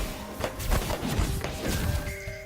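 Weapons fire in the space strategy game The Last Federation, with a gravity lance among them. A run of muffled thumps and crashing impacts repeats at a moderate level against a steady tonal background.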